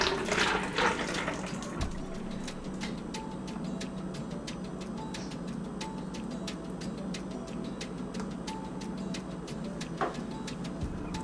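Homemade liquid soap being poured from a heavy pot into a pitcher, a steady close trickling and splashing stream with a few small clicks, heard alone with no talking.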